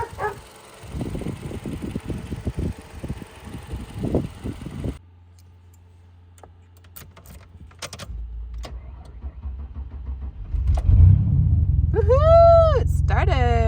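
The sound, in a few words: race car engine starting and running on jack stands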